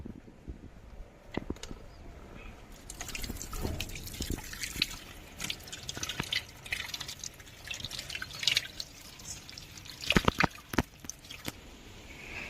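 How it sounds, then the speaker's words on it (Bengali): Raw chicken pieces are rinsed in water, with irregular splashes, drips and wet knocking of meat against a bowl, close and moderately quiet, scattered bursts without speech. "এটাকে ভালোভাবে ধুয়ে পরিষ্কার করে নেবো"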